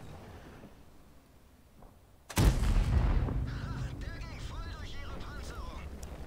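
After a quiet stretch, a single heavy tank cannon shot in World of Tanks booms and rolls away into a lingering rumble, followed by busy game sounds.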